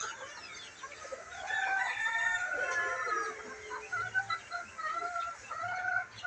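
Hens cluck and squawk in drawn-out, wavering calls, one having just laid an egg, moderately close, continuing throughout with no one talking.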